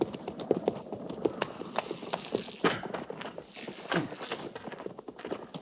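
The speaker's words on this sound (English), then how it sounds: "Jenkins, get that horse and put him with the pack mules." Horse hooves clip-clopping as a radio drama sound effect, irregular close hoofbeats on hard ground with a few heavier thuds, moderately loud and alone.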